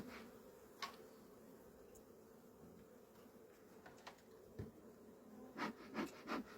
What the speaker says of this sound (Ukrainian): Так, тут багато бджіл.